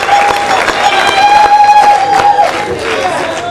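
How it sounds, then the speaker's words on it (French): Wedding guests at a celebration cheer and clap loudly together in a large, close crowd, applause swelling and then tapering slightly, with a whistling tone over the noise. "Est-ce que nous pouvons acclamer très fort le Seigneur? Acclamons Dieu. Acclamons pour Pierrot."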